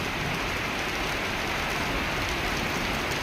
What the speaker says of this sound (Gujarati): જબરજસ્ત ઝાપટું આવ્યું